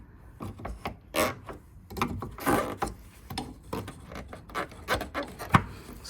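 Plastic headlight bulb cover on a Nissan Micra K13 being worked loose by hand and with a screwdriver, giving a series of close, quiet clicks, scrapes and rubbing knocks in an irregular rhythm.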